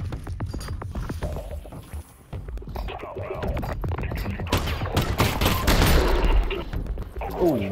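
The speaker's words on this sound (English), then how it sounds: "Big dude came out from around that corner with that big old machine gun" Machine gun fire from an enemy in Half-Life: Alyx, a dense run of gunfire and impacts building louder toward the end, mixed with mechanical clatter and scraping game effects.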